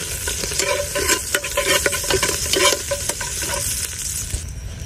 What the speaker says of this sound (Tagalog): ngayon mag-isa na tayo ng ating mabangong bawang